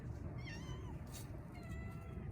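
Faint cat meows rise and fall, a couple of drawn-out calls heard over a steady low hum.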